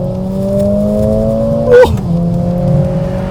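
A Mercedes-AMG A 45 S four-cylinder engine pulls hard under acceleration on an open road, its steady drone rising in pitch, then a sharp gear-shift blip and drop before climbing again; a brief exclamation is heard.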